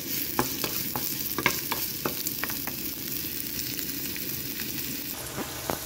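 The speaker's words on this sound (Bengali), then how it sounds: "পেঁয়াজটা হালকা একটু ভেজে নেব।" Chopped onion fries in a pan with a soft steady sizzle, broken by a string of sharp scraping taps as it is stirred, close and moderately quiet.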